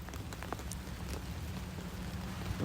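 Steady rain falls outdoors in very cold weather, a dense, even patter across the whole stretch with a few louder drop hits, no voices over it.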